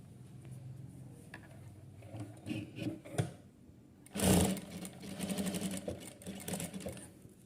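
A sewing machine stitches a cross piece onto a blouse neck, with short bursts of running needle chatter, a loud mechanical clunk midway, then steadier close-up stitching.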